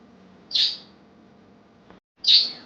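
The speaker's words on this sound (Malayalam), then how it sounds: "വീട്ടിൽ അപ്പോൾ ബഡ്ജീസ് ഉണ്ട്, അതാണ് ഈ ബാക്ക്ഗ്രൗണ്ടിൽ കിളിയുടെ സൗണ്ട്." Pet budgies chirp in the background of a home, with two short, bright, high calls separated by a quiet pause, heard clearly but at a modest distance.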